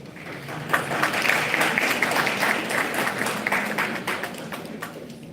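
At an International Women's Day event, an audience applauds a panel speaker, many hands clapping in a full, steady wash that swells early and then gradually thins and fades toward the end.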